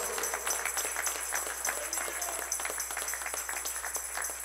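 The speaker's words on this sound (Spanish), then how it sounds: "Dele un aplauso al Señor con todo su corazón." A church congregation applauds the Lord during a sermon, a dense ongoing patter of many hands clapping at moderate distance, with some voices mixed into the noise.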